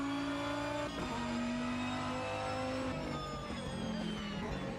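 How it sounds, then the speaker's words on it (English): Race cars in the Automobilista 2 racing game, vintage IMSA machines at Road Atlanta, drone on together with engines holding steady tones, rising and dipping slightly as throttle is feathered through the esses, loud and continuous. "Sounds like both cars having to feather their throttle just a bit in order to keep it all on the island."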